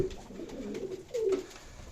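Soft, low coos from Ankara tumbler pigeons repeat in a short run, close by, with a louder rolling coo near the end and no voices.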